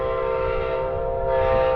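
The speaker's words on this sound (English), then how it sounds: "Of course, you can hear that sound. That's a P42." An Amtrak Floridian train led by a P42 locomotive sounds a loud, close, sustained horn chord that holds steady without a break throughout.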